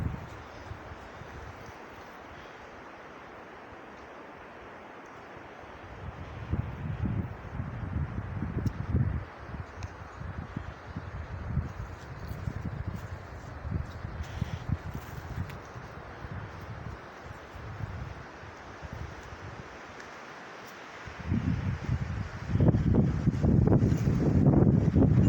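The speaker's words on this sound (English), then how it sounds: "The noise you hear in the background isn't anything running, it's just the wind." Strong wind blows through trees in a wooded area, a broad rushing roar that swells into gusts and then eases. Bursts of louder rustling and buffeting come near the middle and again toward the end.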